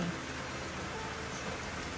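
Rain falls steadily on an evening outdoors, a soft, even wash of patter without pause and with no voices.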